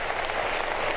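Dense, steady applause from a large audience at a Pakistani official ceremony honouring a woman from Balochistan before the Prime Minister, filling the whole moment with continuous clapping and no talk.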